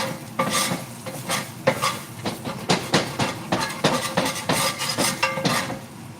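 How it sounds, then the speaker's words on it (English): A skillet scrubbed and scraped clean of burnt residue: rapid, rhythmic rasping strokes repeating for several seconds, close and steady, with no talk over it. "I'm gonna clean my skillet just a little bit so I can heat up my tortillas"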